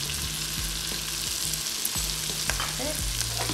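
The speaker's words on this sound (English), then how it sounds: "And you want to fry them until it's brown." Ginger garlic paste and cumin powder fry in a pan with a dense, constant sizzle, while a spoon scrapes and stirs in regular strokes, close and alone.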